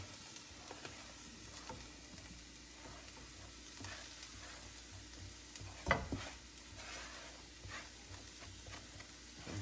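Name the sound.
onions, green onions and thyme sautéing in a pan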